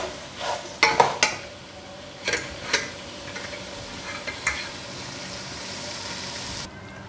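Beef frying and being stirred in garlic in a pot for yakhni pulao, with soft scraping strokes and clinks over a steady low sizzle, fairly close, no talking.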